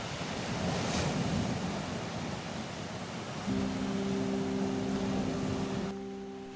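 Rough sea waves and strong wind on a stormy Danish coast, a dense continuous wash of surf with gusts buffeting the microphone, steady and close, with a brief low tonal hum near the end.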